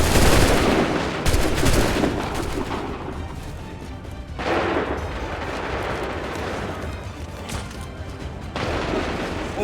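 Musket volleys from Assassin's Creed III crack out in heavy, booming bursts, a large ragged volley at the start followed by further loud rolling volleys at intervals, with battlefield noise between them.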